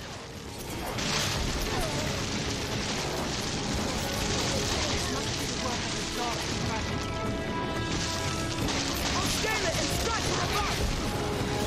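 Magical explosions in Dragon's Dogma rumble loudly and continuously, with sustained roaring bursts and crashing debris that swell again near the end.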